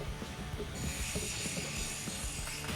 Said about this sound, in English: I can go around and start tightening each screw down